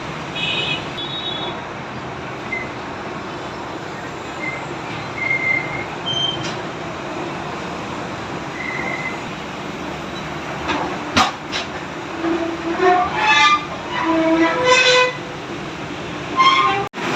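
A metro train rumbles through a station in Lahore, Pakistan, with steady low noise, brief squeals and a couple of distant horn-like tones rising near the end.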